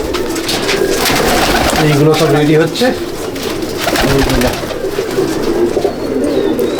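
Pigeons coo in a loft in Akra, Kolkata. Their soft, repeated warbling calls run steadily throughout, with someone talking over them close by.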